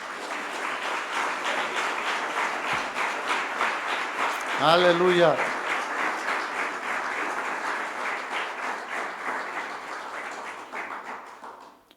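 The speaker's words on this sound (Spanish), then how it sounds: "Dale un aplauso al Señor." A church congregation claps steadily through a Spanish-language worship service, sustained and dense for about twelve seconds. A voice rings out briefly in praise midway, and the clapping thins out at the end.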